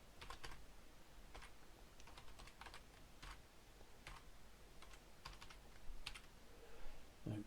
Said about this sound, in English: so I'm going to just type a line in here.